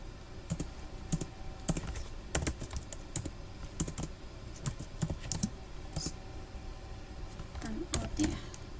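Someone types code on a computer keyboard in quick irregular bursts of clicking keystrokes, heard close and fairly quiet while a person talks over it.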